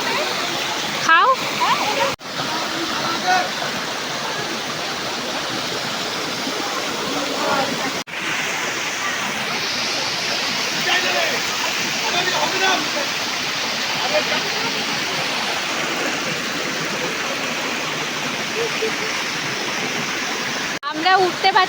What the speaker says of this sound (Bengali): বামনি ফলস